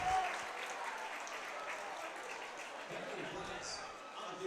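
Crowd at an Edmonds-Woodway versus Meadowdale high school football game, a steady broad roar of cheering and clapping that holds level throughout, with a commentator talking over it.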